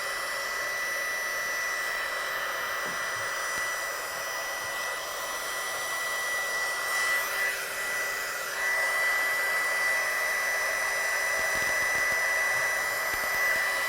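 A heat gun blows a steady, loud whooshing hiss, heat-setting stamped embossing powder, with no talking over it.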